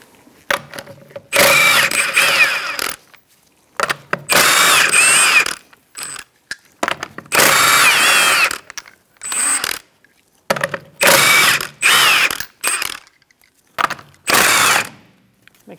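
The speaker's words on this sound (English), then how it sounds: "we're going to remove our lug nuts to remove our wheel." A power tool fitted with a 21 mm socket zips lug nuts off the rear wheel of a 2004-2009 Mazda 3 2.3L, loud repeated ratcheting bursts of one to two seconds separated by short silences.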